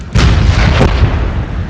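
A cannon fires aboard an airship in the game Guns of Icarus, two heavy booming blasts in close succession with a rumbling tail, loud and up close.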